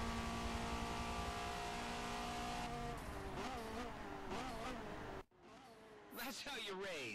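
Race car engine roaring in Forza Motorsport 7 near the finish line, a steady loud drone with engine pitch rising and shifting, a brief dropout near the end, then a revving surge, with talking over it.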